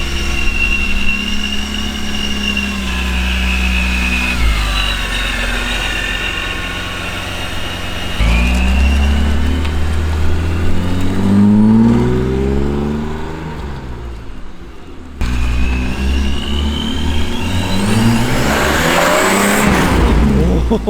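A loud supercharged BMW engine revs and accelerates repeatedly, the pitch climbing and dropping between surges, with tire noise and brief talk in between.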